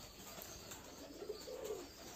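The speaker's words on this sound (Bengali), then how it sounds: "সব কবুতরকে খাবার দেওয়া হচ্ছে।" Pigeons coo softly at a pigeon farm during feeding time, faint low warbling calls swelling briefly in the middle of a quiet background.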